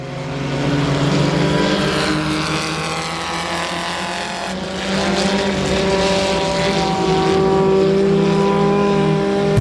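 Race cars at Rose Bowl Speedway roar past the flag stand. Their loud, overlapping engine drone rises and falls as the field streams by, with no talking heard.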